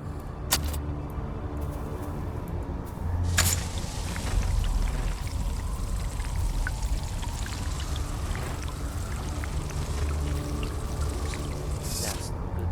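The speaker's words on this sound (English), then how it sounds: "I spilled some water because I didn't have enough storage." Water pours and spills steadily in the video game Dune Awakening, a continuous splashing stream over a low mechanical hum with a few brief clicks, and a voice talks over it.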